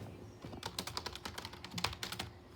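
Clacky computer keyboard keys are typed on close up in a quiet room, a quick, uneven run of sharp clicks and taps with brief pauses between bursts.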